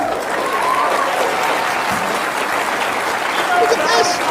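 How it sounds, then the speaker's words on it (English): Applause from a crowd plays back from a video, a steady wash of clapping with what sounds like speech layered over it. "We're hearing applause"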